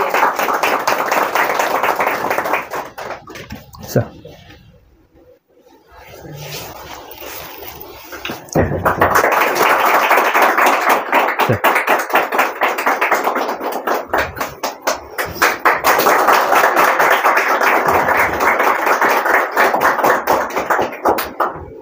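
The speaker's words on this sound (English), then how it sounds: "A huge round of applause" An audience at an AutoCAD drafting competition award ceremony applauds the second runner-up, loud sustained clapping that dips briefly to near silence, then swells again and carries on strongly to the end, with a short word spoken in the lull.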